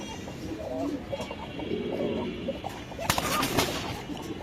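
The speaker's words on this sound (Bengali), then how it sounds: "এটা কি কবুতর? এটা হয়েছে আপনার হোয়াইট বাগদাদি।" White Baghdadi pigeons coo softly at a Mirpur pigeon farm, low murmuring calls repeating through the clip, with a brief louder rustle or flutter near the end.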